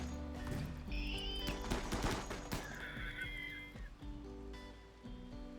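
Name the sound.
gunfire attacking turrets in video game RimWorld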